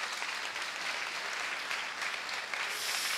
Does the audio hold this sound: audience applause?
yes